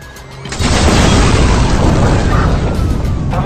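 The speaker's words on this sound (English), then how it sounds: "Hey, we got a massive explosion here, squad." A massive explosion in the video game Watch Dogs erupts about half a second in as a loud, sustained boom that rumbles on without a break for several seconds.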